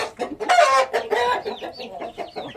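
A young rooster, about two and a half to three months old, gives a short series of close, loud clucks and squawky calls, with brief pauses between them.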